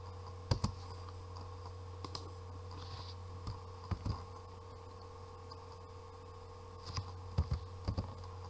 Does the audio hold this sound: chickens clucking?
no